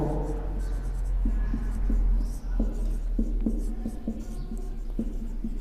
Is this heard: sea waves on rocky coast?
no